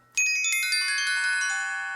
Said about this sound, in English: a crazy exposed run on the bells or the xylophone comes out of nowhere